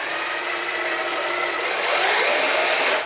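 A prop chainsaw with a spinning rubber blade whirs steadily and close by, a continuous motor hum that swells slightly louder toward the end before cutting off.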